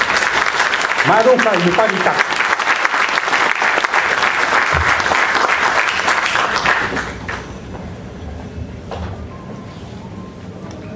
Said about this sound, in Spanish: Vamos a recibirla con fuertes palmas a la doctora